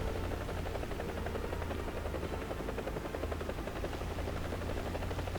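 Steady, continuous rotor and engine drone of a Mi-4AV helicopter in the War Thunder game, a dense unbroken whir holding level throughout with no talk.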